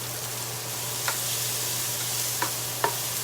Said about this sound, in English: So I'm just stir frying a little bit of the onion.